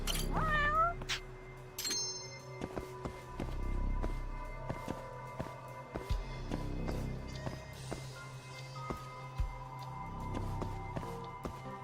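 Cat in the game Judgement gives a short meow at the start, then a long stretch of in-game ambience with footsteps, clicks and faint background tones.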